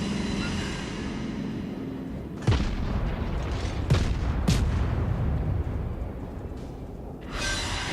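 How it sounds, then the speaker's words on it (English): Ship guns fire in a World of Warships naval battle, three heavy booming salvos spaced a second or so apart over a constant roar of sea and engine noise, with no voices. "And I'm able to finish him off with guns."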